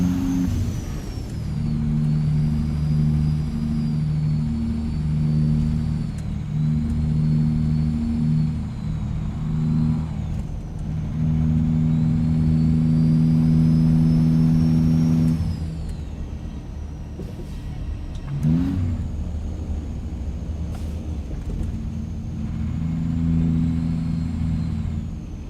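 A 500 horsepower truck engine in a trucking video game holds a smooth, steady low drone with loud sustained tones, shifting pitch as it pulls along, with a brief hiss partway through.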